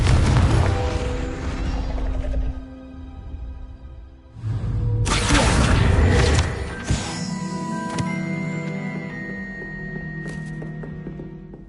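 Confringo spell blasts in Hogwarts Legacy gameplay: booming bursts with crackling debris at the start, around 4.5 and 5 seconds, and near 7 seconds, set against a sustained ringing musical score.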